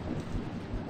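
A stormy rumble of thunder and rain fills a SpongeBob SquarePants game cutscene, a dense, continuous wash with low rolling booms and no talk.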